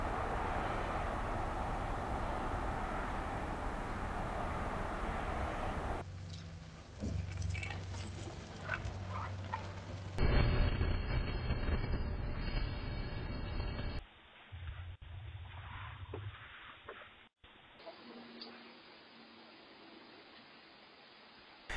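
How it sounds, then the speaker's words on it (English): Outdoor ambient noise captured by several smart video doorbells in turn, a steady broad hiss and rumble like traffic or wind that shifts in tone and level at abrupt cuts, with no talking. "how all of these sound when exposed to standard outdoor ambient noise"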